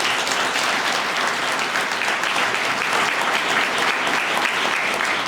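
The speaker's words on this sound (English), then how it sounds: "Give him a round of applause" An audience at a police promotion ceremony gives the police chief a round of applause: dense, sustained clapping from many hands that fills the room evenly throughout.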